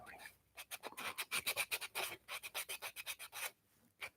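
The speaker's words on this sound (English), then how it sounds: "I'm just going to quickly go over with the 240 grit as well" Hand sanding of wood with 240 grit sandpaper during intarsia work, heard as quick rhythmic back-and-forth rasping strokes, close and distinct, with short pauses between bursts.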